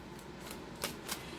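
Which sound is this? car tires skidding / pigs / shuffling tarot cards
shuffling tarot cards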